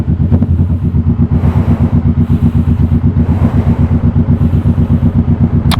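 A 2016 Kawasaki Vulcan S ABS motorcycle fitted with a Two Brothers full-system titanium exhaust, its twin engine thumping in a steady low pulsing rumble at a constant pace, loud and close with no talk.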